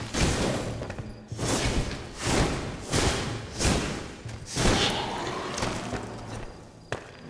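Combat blows against a skeleton in the video game Enshrouded land as a rhythmic series of heavy thuds and swishes, about six strikes spaced roughly a second apart, close and loud.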